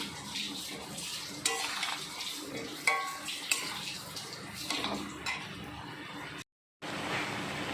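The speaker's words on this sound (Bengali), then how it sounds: "দিয়ে দিচ্ছি হলুদের গুঁড়ো দিয়ে আবার ভালো করে নাড়াচাড়া করে নিচ্ছি" Catfish curry with vegetables, salt and turmeric is stirred in a pot, with soft scraping and clinking of a spoon against metal and gentle sizzling, close and fairly quiet, broken by a brief gap near the end.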